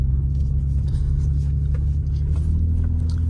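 A 2023 Ford Raptor truck in two-wheel drive drives over a bumpy dirt trail, its engine a steady low rumble close by, running continuously with no voices.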